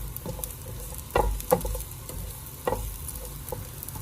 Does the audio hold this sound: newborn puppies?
no